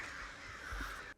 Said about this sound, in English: The birds are attacking.